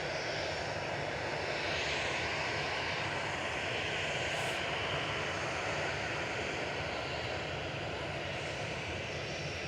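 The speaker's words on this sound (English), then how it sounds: "This is 9HQCS, right now operated by Malta Air, heading off to Malaga, Boeing 737-800, flight 3232" A Malta Air Boeing 737-800 jet departs Manchester Airport for Malaga, its engines producing a loud, steady broadband roar that holds throughout with no voices.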